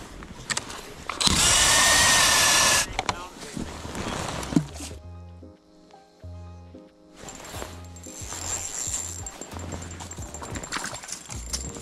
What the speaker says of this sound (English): we're just gonna start drilling holes around the whole lake